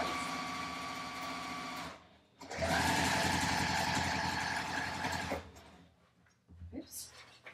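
A sewing machine stitches a bag seam, running in steady bursts of fast, rhythmic mechanical whirring and stopping briefly between them for backstitching, close up, with a voice speaking at times.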